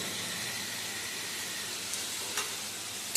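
Ground spices (cumin, coriander and Kashmiri chilli powder) hiss and sizzle steadily in hot oil in a pan, a continuous close fry broken by a couple of faint stirring scrapes.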